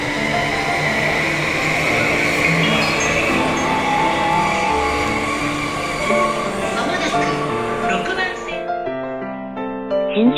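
An E235 series Yamanote line train pulls away from the opposite platform of a station, its motors giving a loud, changing electric whine over rumbling wheels amid platform noise.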